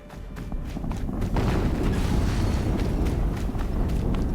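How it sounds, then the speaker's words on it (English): A deep explosion in the video game Horizon Zero Dawn, a loud low rumbling roar that swells after the first second and keeps booming and crackling steadily, with no talk over it. "Another explosion."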